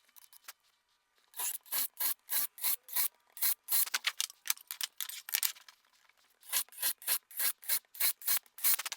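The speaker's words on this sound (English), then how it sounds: "we are going to countersink each end of these, and then we're going to drive them in with some screws" Rhythmic rasping strokes of a drill bit countersinking and screws being driven into 2x4 lumber ends, a close series of repeated short grinding bursts with brief pauses, no talking.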